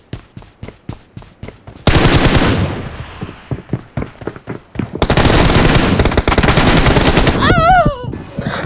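Rapid automatic gunfire in a PUBG battle, loud and close, with sustained bursts of overlapping shots from teammates laying down cover fire, ending with a warbling whine.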